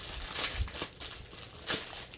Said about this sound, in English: Let me do some crinkling away from the camera.